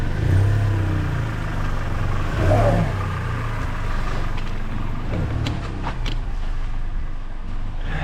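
A 2012 Hyundai Elantra with a repaired exhaust revs up and settles back, its engine and exhaust roaring loud and close with rising and falling pitch and some rattling near the end.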